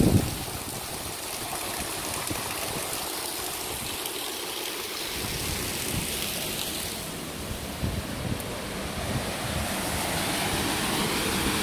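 Steady rushing of water pouring over a small weir on the Grand Union Canal, a continuous broadband roar with outdoor wind noise, constant and fairly close throughout.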